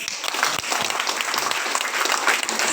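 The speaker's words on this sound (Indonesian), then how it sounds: "Tepuk tangan dulu." An audience at a gathering in an Islamic retreat hall, visited by a police chief, breaks into applause: a continuous, even patter of many hands clapping, fairly close and steady throughout.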